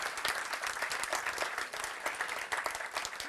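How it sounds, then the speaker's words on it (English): Audience at the NATO Youth Summit in Stockholm applauds the summit winners, a steady, dense burst of clapping filling the room throughout, close and even with no talk over it. "Let's give them another round of applause."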